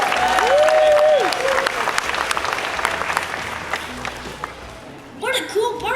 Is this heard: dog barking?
no